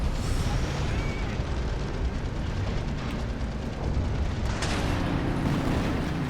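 Tank cannon round striking nearby in War Thunder, with an IS-2 and a Tiger H1 in the fight: a broad, loud, sustained roar of impact and rumble that flares again near the end, amid constant battle noise.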